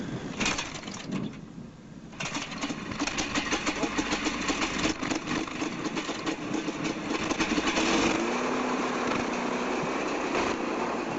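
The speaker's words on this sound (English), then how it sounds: "the engine comes to life again" A small engine cranks, catches and settles into a loud, steady idle with a rattling drone that holds to the end.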